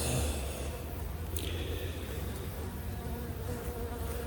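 Feral honey bee hive buzzing while the hive is opened, a dense, continuous close-up drone with a brief higher whine partway through and faint handling noise underneath.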